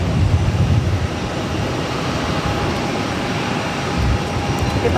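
Airliners, including El Al and Korean Air jets, take off on parallel runways 22 right and 22 left at Boston Logan, a loud, steady, broadband jet engine roar heard alone.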